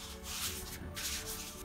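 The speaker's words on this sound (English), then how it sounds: "Scrunch it up a little, work it in." Soft, continuous rubbing and scrunching of damp, fragile paper being worked onto a miniature book box diorama, close up, with a brief crinkly swell midway and no talking.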